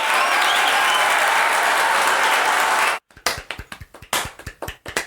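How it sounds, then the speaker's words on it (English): Dense, roaring audience applause on a show cuts off abruptly, followed by a few scattered close handclaps and snaps from a small group. "Hold for applause. Hold for applause."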